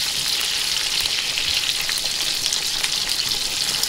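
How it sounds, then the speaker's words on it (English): Sausages sizzle and crackle steadily in a hot pan, a close, continuous bright hiss with small pops, no voices. "right now we're just frying the sausages"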